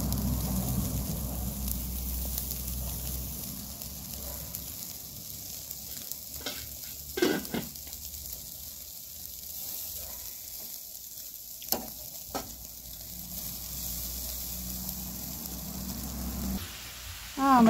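Food, including flatbreads, grilled meat and fried potatoes, sizzles and fries steadily on a hot stovetop plate, with occasional clinks and scrapes of a utensil over the continuous crackle.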